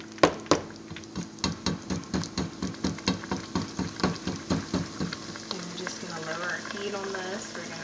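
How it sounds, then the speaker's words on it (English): Ground meat frying in a pot is broken up with a utensil in a steady run of rhythmic taps and scrapes over a quiet sizzle, fading into gentler frying at the end. "We're just going back through and gently breaking up the meat because we don't want to splatter anything all over the stove."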